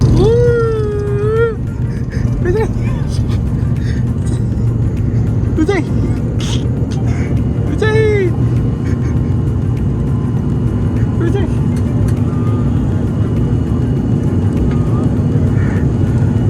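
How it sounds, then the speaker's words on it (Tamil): Passenger airplane taking off from a runway, heard from inside the cabin as a loud, steady engine roar throughout, with people talking over it. "அதுக்கப்புறம் சரியான ஃபாஸ்ட்டில் போய் டேக் ஆஃப் பண்ணார் ஃப்ளைட்டை."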